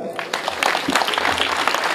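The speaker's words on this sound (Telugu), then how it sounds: "చప్పట్లు కొడదాం గట్టిగా" An audience breaks into applause, a dense burst of clapping that swells after the first moments and holds steady, fairly close and loud.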